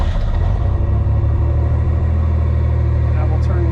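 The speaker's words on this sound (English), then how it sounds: "start the car" A Pontiac Fiero engine runs steadily with a loud, continuous low rumble and an even mechanical throb, idling close by without any break.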